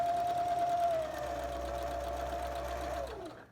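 A sewing machine stitches straight along a fabric quilt binding, a close, steady motor whine with a constant pitch that drops slightly as the run slows and stops near the end, heard alone without speech.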